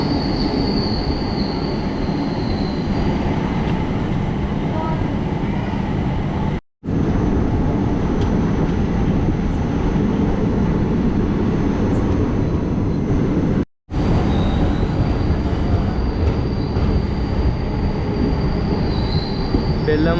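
Madurai Chandigarh Express rolling along the Balharshah–Kazipet section in India, a loud, steady close rumble of wheels and carriages with faint squeal, briefly cut twice, no talk.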